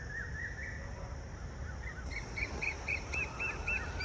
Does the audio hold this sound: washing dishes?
no